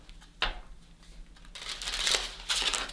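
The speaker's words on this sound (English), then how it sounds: "Let's give this tarot another good shuffle" Tarot cards are shuffled by hand, close and soft: a crisp riffle at the start, then fuller papery shuffling bursts that swell and fade, with no talk over it.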